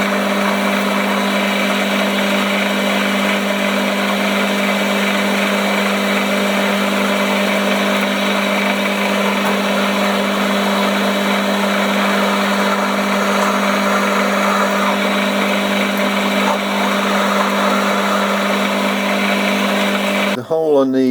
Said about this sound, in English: So the next job is to centre drill.